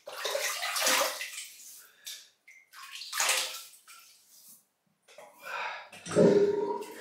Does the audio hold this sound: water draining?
yes